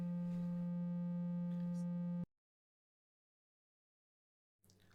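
A steady, pure triangle-wave tone from a modular synthesizer, with soft harmonics, drones for about two seconds, then cuts off abruptly into silence before a brief noise at the end.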